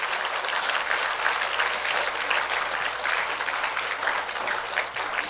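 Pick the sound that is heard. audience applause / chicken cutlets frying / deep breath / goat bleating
audience applause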